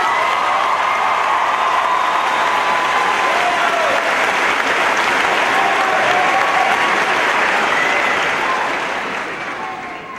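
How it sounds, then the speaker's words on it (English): High school graduation audience applauding families, a loud, dense, sustained wash of clapping with some cheering that holds for several seconds and tapers off near the end. "You deserve a round of applause as well."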